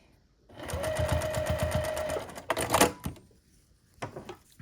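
A sewing machine runs for about two seconds, stitching across a zipper pouch with a rapid, steady mechanical rhythm, then gives a few sharper clicks and handling knocks and falls quiet.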